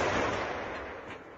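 A 203mm artillery gun fires once, heard as a dense, broad blast that rolls out into a long, slowly fading rumble in the distance.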